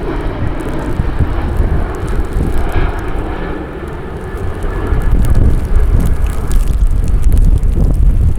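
An Airbus A320neo arriving from Los Angeles flies over Cleveland Hopkins airport during a winter storm, its engines a loud, steady roar that swells near the end, with wind buffeting the microphone throughout.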